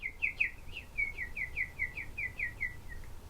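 Baby bird giving a rapid series of about fifteen high, thin chirps in an even rhythm, close and fairly soft over a quiet background, with no talking.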